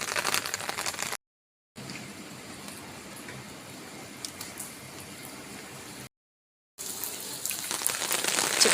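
Heavy rain pattering on an umbrella outdoors: a dense, steady hiss of drops, close and constant, cut by two brief silent gaps and growing louder toward the end.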